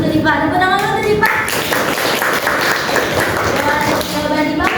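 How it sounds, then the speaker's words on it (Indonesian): A classroom group claps for a student named Dipa during a micro-teaching lesson, steady dense applause running nearly throughout with voices mixed in. "tepuk tangan dulu untuk Dipa"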